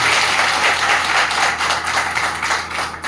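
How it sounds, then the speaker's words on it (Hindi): Audience at a teacher award ceremony in Muzaffarnagar bursts into loud, sustained applause, a dense wash of clapping that holds steady for the full stretch without speech. "उन सभी के लिए एक बार जोरदार तालियां बजाइए।"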